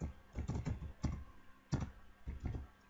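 Keys clatter on a computer keyboard as a file name is typed for a Christmas banner export, short bursts of close clicks separated by brief pauses, no voices.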